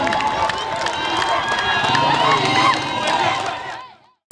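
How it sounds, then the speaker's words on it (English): A dense, loud crowd cheers and shouts as the winning runner crosses the finish line of a long-distance race, the roar continuing steadily before cutting off abruptly near the end. "Ibrahim Cisse reached the finish line first to a cheering crowd."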